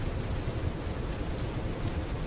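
Rain falling steadily as a dense, even hiss with a low rumbling undertone, constant and moderately loud throughout, with no voices.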